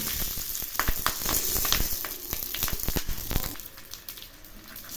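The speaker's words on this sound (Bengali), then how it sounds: "এবার আমি একে একে পাথরিগুলো দিয়ে দিচ্ছি" Hilsa paturi parcels wrapped in banana leaf are laid one by one into hot oil in a pan, giving a steady close sizzle broken by sharp crackles and a few soft clatters as each parcel goes in.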